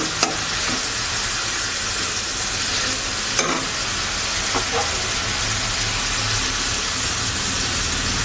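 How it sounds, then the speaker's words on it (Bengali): Moong dal with fish head fries in a pan with a little water, giving a steady close hiss and sizzle with a few faint stirring clinks, and nobody speaks. "ভেজে নেব।"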